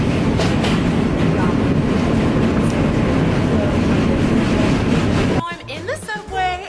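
A subway train rattles and roars loudly with steady clickety-clack for several seconds, then drops away abruptly into quieter station ambience with faint voices.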